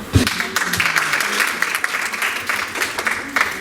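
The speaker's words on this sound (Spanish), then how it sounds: "Un aplauso." Applause from a workshop audience, with a dense spatter of clapping that holds steady for a few seconds under some murmur of voices.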